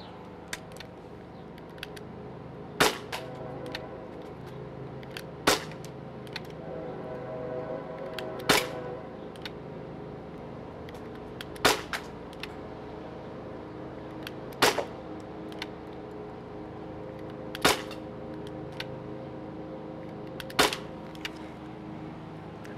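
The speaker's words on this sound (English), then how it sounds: "This is a CO2-powered airsoft, so we'll go ahead and take some shots with it" A CO2-powered airsoft pistol fired shot by shot, sharp snappy pops spaced a few seconds apart, eight or so in sequence, close by over a quiet hum.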